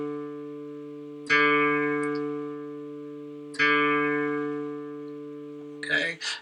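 Acoustic guitar's fourth string being tuned: two separate plucks of the string, each ringing out and slowly decaying, a couple of seconds apart, close and clear, ending with a brief scrape of handling noise.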